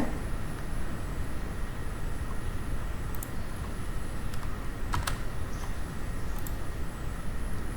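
Names and usernames being typed on a computer keyboard during Gmail account setup, a fast continuous patter of close keystrokes with a few sharper clicks, over a steady hum; no one talks.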